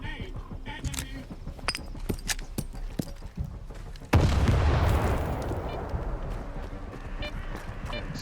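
A grenade blows up at about four seconds into a Stalker 2 firefight with Monolith enemies. It is a sudden loud broadband boom that decays into a long rumbling tail. Sharp gunfire pops come before it, and some scattered shots follow.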